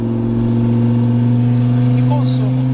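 A Fiat Marea Turbo engine holds a loud, steady drone with strong low harmonics throughout, its pitch rising slightly near the end, with brief faint noises on top.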